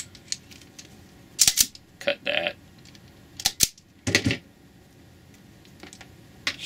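Wire being stripped and snipped with a hand tool while building a wire harness, heard as a handful of crisp close clicks and snaps in irregular bursts against a quiet background.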